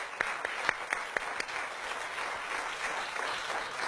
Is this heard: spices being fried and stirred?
no